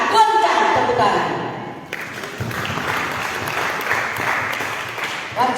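A church congregation at a Sunday service claps in response to the preacher, dense, steady applause filling the room, with a voice heard at the start and a brief drop before the clapping continues.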